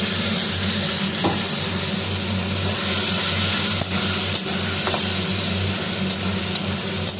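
Ginger, tomato, green and dried chillies, salt and turmeric sizzle loudly in a hot wok. The frying hiss is close, steady and unbroken, with occasional faint scrapes of stirring.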